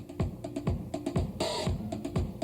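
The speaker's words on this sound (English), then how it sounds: "We add a little bit of the hi-hat to that." A deep bass drum thumps in a steady beat while crisp hi-hat ticks fill between the kicks, with a brief brighter cymbal wash near the middle.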